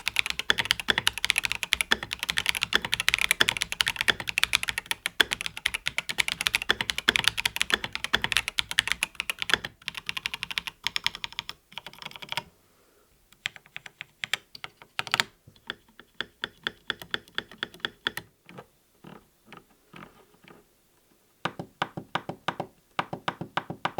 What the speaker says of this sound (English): both switches and stabilizers are lubricated from factory, and this greatly affects the sound of a press.